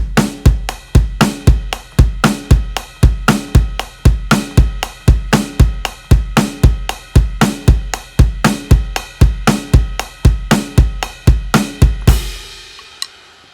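A drum kit plays a beat at song tempo, with a driving, regular pattern of kick, snare and cymbals, close and loud, ending on a final crash that rings out.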